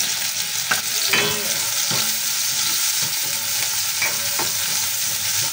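Garlic and ginger sautéing in a hot pan, a loud steady sizzle close by, broken by several scraping strokes and light clinks of a spatula stirring.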